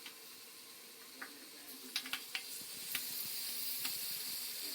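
Fenugreek seeds fry in hot oil for kitri, a steady soft sizzle broken by a scatter of sharp little pops, some in quick clusters, with no talking.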